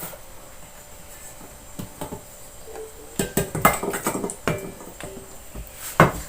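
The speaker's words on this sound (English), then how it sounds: "Now I will take it back out into a bowl." Food scraped and tipped from a pan into a bowl while preparing a homemade meat substitute, giving a cluster of close clinks and scrapes of cookware and utensils after a quiet start, with one sharper knock near the end.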